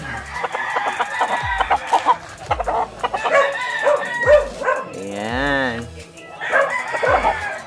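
Fighting roosters, hens and chicks on a Filipino gamefowl farm cluck, crow and squawk loudly and close by, with a dog barking in between and people talking over the birds.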